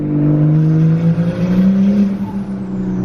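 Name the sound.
turbo car engine revving on dyno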